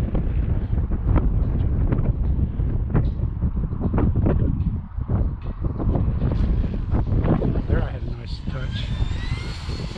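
Strong wind blowing across the microphone at an outdoor park, a loud continuous roaring buffet throughout, with a faint high whine creeping in toward the end.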